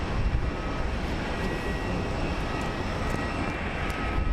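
An airliner at Sky Harbor International Airport in Phoenix roars steadily at moderate distance, a constant broadband jet engine drone with faint high whine, holding even for several seconds with no talking.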